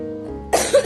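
One person coughs twice in quick succession, loud and close, after a moment of quiet.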